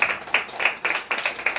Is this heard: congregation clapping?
yes